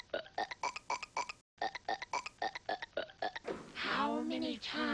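Rapid repeated burps from a kid in a burping contest at home, short bursts in quick succession with a brief pause, followed by a longer drawn-out belch at the end.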